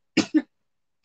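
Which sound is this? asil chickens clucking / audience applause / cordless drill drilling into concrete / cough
cough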